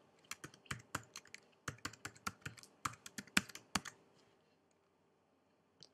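Keystrokes on a computer keyboard as a username and password are entered, a quick irregular run of close, crisp clicks for about four seconds before the typing stops and the room falls quiet.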